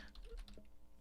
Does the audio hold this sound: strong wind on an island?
no